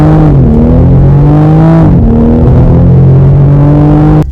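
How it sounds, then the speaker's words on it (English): A 2020 Toyota Supra Launch Edition accelerates hard, its turbocharged engine note loud and close as it climbs through the revs, drops briefly at a shift, then pulls again steadily with no talking. "The push, the hit is instant right when you put your foot on the gas."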